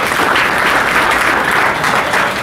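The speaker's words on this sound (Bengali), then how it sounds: "একটা জোরদার হাততালি দাও" Students in a police-recruitment coaching class give a burst of loud, dense clapping that carries steadily through the whole moment, close and unbroken, with no talk over it.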